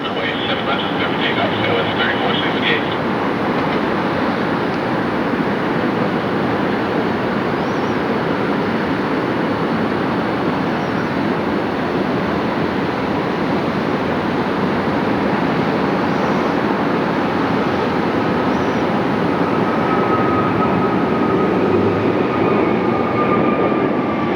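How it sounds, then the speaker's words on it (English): Delta jet airliner at Phoenix airport in hot weather, a loud, sustained engine roar over nearly half a minute, with a rising whine near the end and a voice talking over it at times. "I've got another cool jet here, 696DL, operating as Delta 672, inbound from Atlanta."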